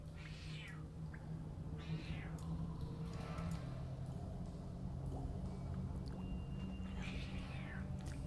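A house cat meows several times in short rising calls spread across the stretch, faint and somewhat distant over a low steady hum, with quiet background sound from a game.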